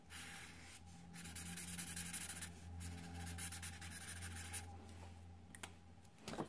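Marker or pencil colouring in the eyes on a drawn mask, giving a steady close scratchy rubbing with short pauses between strokes over a low background hum.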